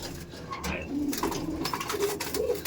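Andhra pigeons cooing in soft low repeated calls while being handled and caught, close and steady, with some rustling underneath.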